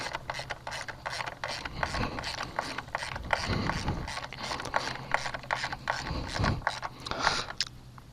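A ratchet wrench tightens a frame slider puck on a 2017 Yamaha FZ-10 (MT-10) motorcycle, with rapid clicking pawl strokes in uneven bursts, close and fairly loud, with a few heavier clunks between runs.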